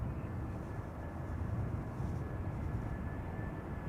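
A high Boeing 747 passes far overhead above North Holland, a faint, steady distant rumble of jet engines alone with no talk.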